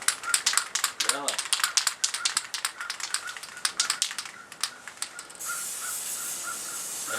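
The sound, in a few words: shaking a can of coating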